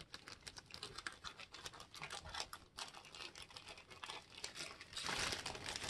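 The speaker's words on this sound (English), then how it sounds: "So I'll just cut this open here." A plastic bag holding a TriStar vacuum HEPA pre-motor filter is cut open, giving a faint, steady crinkling and scratching of plastic that runs continuously and grows slightly louder near the end, with no voices.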